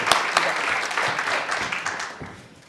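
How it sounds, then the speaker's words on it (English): An audience applauds at a political event in Idaho, a dense, steady wash of clapping with a few sharper claps near the start, gradually fading toward the end. "let's give him a big rousing"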